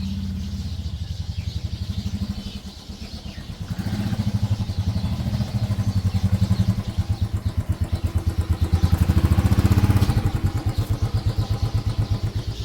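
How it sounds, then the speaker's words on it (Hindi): A motorcycle ridden toward a market in Dehradun gives a close, loud, pulsing engine thrum that runs without a break and swells as the throttle opens, then settles again. "कैंपर वैन को छोड़ के हमने उठा लिया ये बाइक"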